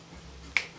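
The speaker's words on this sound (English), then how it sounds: "Snap your fingers, yeah." One crisp, sharp finger snap rings out close and alone against a quiet room.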